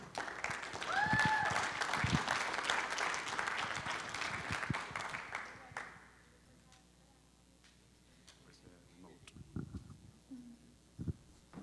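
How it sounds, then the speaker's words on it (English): Audience applause for a woman named Alba at a Liberty International event, a dense burst of clapping with a few whistles that fades out after about six seconds, leaving quiet room noise and scattered small sounds. "So big applause to Alba for this"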